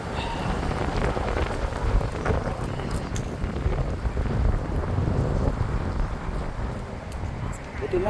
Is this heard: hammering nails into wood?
no